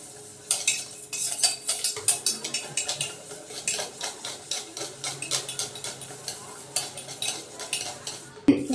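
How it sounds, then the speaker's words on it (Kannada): A spoon stirs mango rava cake batter mixed with oil in a bowl, giving rapid, rhythmic scraping and clinking strokes, close up and continuous, ending with a louder knock. "ಆದಷ್ಟು ಚೆನ್ನಾಗಿ ಮಿಕ್ಸ್ ಮಾಡ್ಕೊಳ್ಳಿ"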